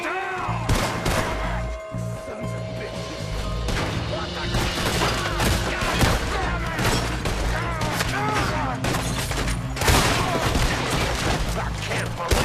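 Rapid bursts of gunfire in the Red Dead Redemption 2 video game at Clemens Point, a loud, sustained fusillade of overlapping shots and booms with music playing underneath.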